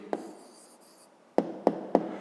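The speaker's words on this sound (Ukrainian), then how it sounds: "Ну, а тепер записуємо відповідь." Hand writing on paper while a math answer is written down, a brief scratch followed after a pause by three quick taps or strokes in a row, close and quiet with no talk.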